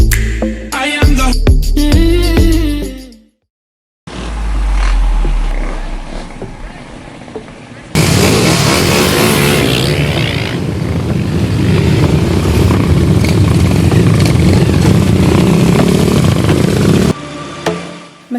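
An old Honda CB motorcycle engine runs with a steady, loud, broadband roar that holds for about ten seconds after a brief burst of music and a short gap.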